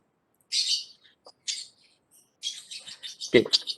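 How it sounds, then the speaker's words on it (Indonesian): A pet bird chirps and tweets near the microphone in a series of short, bright, irregular bursts, with a sharp knock-like thump near the end. "mohon maaf ya agak noise sekali nih burung saya nih"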